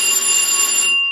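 A security alarm at a Titan II missile silo, set off when the silo door slides open, rings as a loud, steady electric bell tone for about a second before cutting out.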